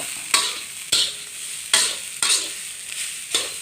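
Rice stir-fried in a hot pan for a morning meal, with a bright hiss under six or so loud, rhythmic scrapes and tosses of the spatula.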